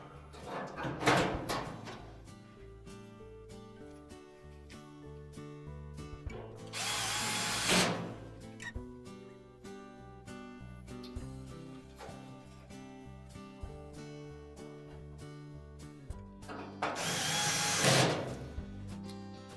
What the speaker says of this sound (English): And just secure it in place with the 2 screws.